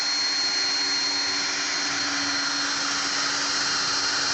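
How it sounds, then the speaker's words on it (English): A power drill spinning a 12mm wooden dowel whirs steadily with a constant high-pitched motor whine, loud and unbroken throughout, with a sanding hiss layered over it. "When you're sanding rounds, just to see if you can put them in your chuck your drill"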